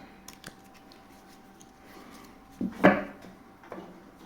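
A brief riffle and snap of cards being cut, a short papery burst near the middle, with faint handling noises around it.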